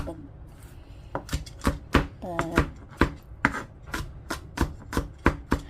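A knife chops garlic on a cutting board in crisp, close thuds, first a few scattered cuts and then a quick regular rhythm of about two strikes per second, with no talking over it.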